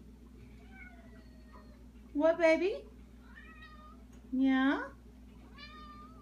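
Two of three house cats meow for breakfast, giving two loud, drawn-out, rising meows a couple of seconds apart. A person talks softly to them in between.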